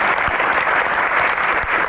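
Loud, dense audience applause for a guest on a music talk show, steady and continuous throughout without a break.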